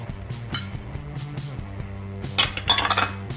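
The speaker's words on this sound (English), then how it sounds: "stir this up with either a wooden spoon or a rubber scraper" Muffin batter for healthy morning muffins being stirred in a bowl with a wooden spoon or rubber scraper, giving repeated clinks and scrapes against the bowl, with a louder cluster of knocks near the end over a steady low hum.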